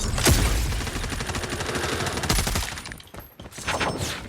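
Dense rapid gunfire from an online shooter game, loud and close, sustained bursts over a few seconds with a brief lull near the end before more shots.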